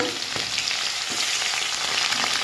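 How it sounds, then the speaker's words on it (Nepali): Onion tossed into hot oil with ajwain seeds for a local meat dish, giving a loud, close, continuous sizzle and crackle with faint stirring scrapes, no talking. "प्याज पनि झ्याम हालिदिने हो यसरी।"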